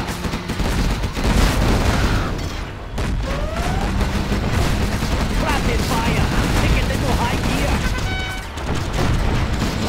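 Rapid machine gun fire in Command and Conquer Generals Zero Hour, loud sustained rattling bursts mixed with booms and battle clatter over the full stretch, with brief game voice cues.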